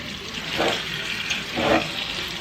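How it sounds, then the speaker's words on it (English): Hot tap water runs into a kitchen sink as greens are washed for a Sunday dinner, a steady close hiss that swells twice as the stream is disturbed, with no one speaking. "So I'm gonna go ahead and wash these off."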